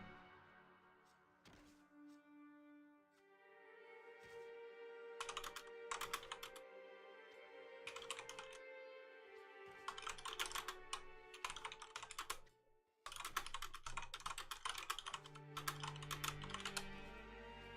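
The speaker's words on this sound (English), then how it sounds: "I think you guys can hear me typing a bit" Computer keyboard typing during a Steam message, in bursts of quick clacking keystrokes that come and go, fairly close and moderately loud, with pauses between runs and no talking.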